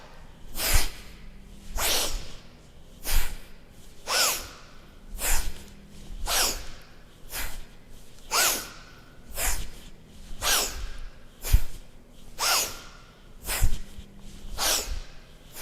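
Deep yoga breaths through the nose, strong rhythmic inhales and exhales repeating about every second and a half, close and clear, with no talking.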